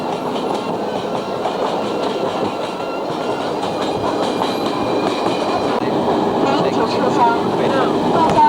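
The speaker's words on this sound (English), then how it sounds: "huge steam locomotives haul most freight trains in this part of China" Freight train hauled by a big steam locomotive through rice country near Hangzhou, China, a steady rumbling rail roar with faint clickety-clack of wagons rolling past, continuous and fairly close throughout.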